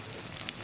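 Stuffed pointed gourds frying in hot oil give off a steady, close sizzle with fine crackling pops, dense and even throughout the brief moment, with no voices.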